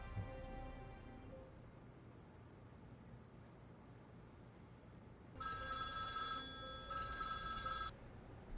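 A telephone rings in a dubbed Turkish film, two loud bursts of trilling electronic ring separated by a short gap, rising suddenly out of a quiet, faintly hissing room with no talking.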